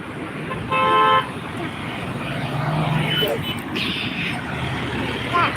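A vehicle passing on a busy highway gives one short horn toot near the start, then a steady traffic rumble continues, with voices talking over it.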